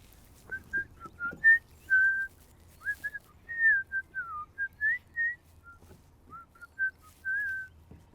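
A man whistles a wandering, tuneless melody of short bright notes and held tones while kayak fishing on an old rock quarry, close and fairly quiet over a low steady rumble, no talk.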